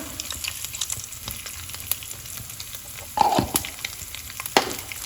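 Grated coconut roasting dry in a pan with salt and turmeric for a Kerala beef dish gives a steady, soft sizzle and crackle, with a couple of louder scraping stirs partway through; no one speaks.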